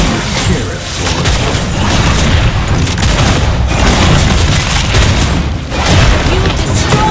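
A turret destroyed in the Mobile Legends mobile game, heard as a dense, loud burst of booming explosions and crashing impacts layered over continuous battle noise and game voice effects.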